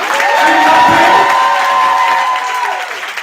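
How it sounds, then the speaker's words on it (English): Audience cheering and whooping at a speaking event, a loud swell of crowd voices with sustained shouts that fades slightly toward the end; distinct hand claps are not prominent. "So go ahead, give them a round of applause."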